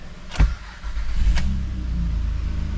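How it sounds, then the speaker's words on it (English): A car with 253,785 miles and a rusted-out unibody cranks with a sharp starter burst, then its engine catches and settles into a steady, close idle rumble. "Let us start the engine."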